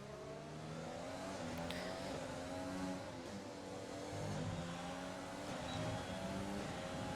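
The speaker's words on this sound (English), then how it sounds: "As some cars come into the pits again, and we pick off some cars again." Formula 1 race car engines in the F1 2020 game, a steady high whining drone with gear-shift pitch steps, one car close and others passing, continuous with no talk.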